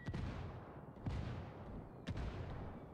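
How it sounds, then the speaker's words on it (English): Mortar strikes in the Ghost War game, three heavy booming impacts spaced about a second apart over a low rumbling background. "Mortar is out."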